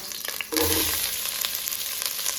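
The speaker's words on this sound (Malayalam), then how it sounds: "വലിയ ഉള്ളി ഇതിലേക്ക് ഇടാം കേട്ടോ." Chopped large onions hit a hot pan for chicken biryani, with a dense, steady sizzle and frying hiss that jumps in after a brief lead-in and continues loud and close without talk.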